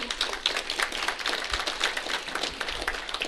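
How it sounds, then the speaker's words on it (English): A seated audience applauds Victoria, a young camper moving up to counselor, in a full, steady patter of many hands that holds at moderate loudness from start to finish. "Let's give her a round of applause"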